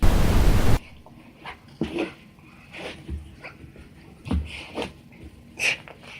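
A dog whines and whimpers at a laser pointer, several short high cries spaced apart after a brief burst of broadband noise, close and fairly clear with no talk.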